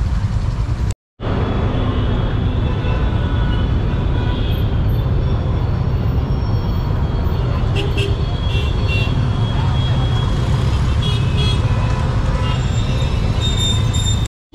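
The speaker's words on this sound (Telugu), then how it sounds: "నాకెందుకో ఇది ఖైరతాబాద్ గణేష్ డే ట్రాఫిక్ అని నా ఫీలింగ్" Loud, continuous roar of heavy city road traffic on Khairatabad Ganesh festival day near Nagarjuna Circle, a steady dense rumble with a few brief high-pitched honks and squeals toward the end.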